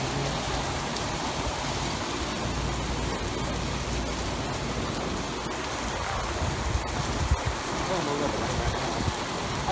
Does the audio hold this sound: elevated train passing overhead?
no